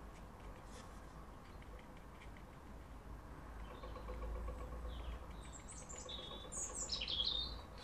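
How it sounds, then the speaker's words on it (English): A robin sings outside the back door, a few faint, high chirps and short warbled phrases rising late on over a low steady background hum, distant and soft. "I can hear the robin just outside the front door,"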